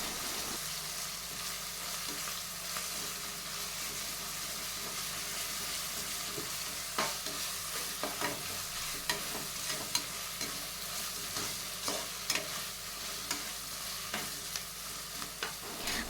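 Onion with two tablespoons of ginger garlic paste sautés in hot oil, giving a steady sizzle with scattered louder stirring scrapes and spoon clicks through the second half, with no talking.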